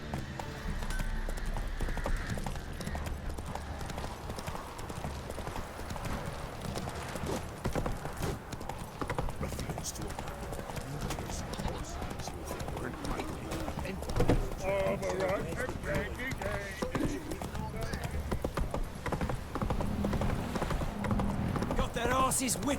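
Horse hooves clip-clop steadily in The Witcher 3 as the mount trots along, a continuous rhythmic beat layered with game ambience and occasional voices.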